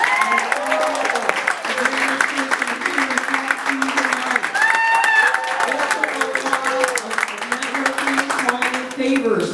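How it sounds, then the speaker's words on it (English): High school audience at a project graduation hypnotist show clapping and cheering steadily for a student spokesperson, loud and close, with a speaking voice continuing over the applause throughout. "Nice round of applause for the spokesperson."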